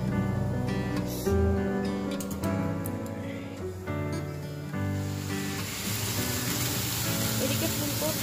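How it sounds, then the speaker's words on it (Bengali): Cauliflower, carrot, papaya and pumpkin frying in a home kitchen, a steady sizzle and hiss running throughout with scattered clinks and ticks from utensils, and voices talking over it at times. "এদিকে ফুলকপি, গাজর, পেঁপে, কুমড়ো এগুলো সব ভাজতে বসিয়ে দিয়েছি।"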